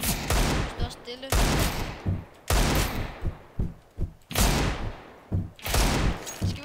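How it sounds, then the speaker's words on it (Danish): Repeated bursts of gunfire from a 1v1 video game match, several loud volleys spread across the clip with short gaps, with players talking in between. "Jeg skulle lige til at skyde dig."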